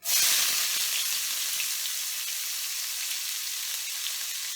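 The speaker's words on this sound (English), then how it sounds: "I love the sizzle of the onions in hot oil, in hot vegetable oil." Onions sizzle in hot vegetable oil, a bright crackling hiss that bursts loudly at first and then settles into a steady, close frying sound.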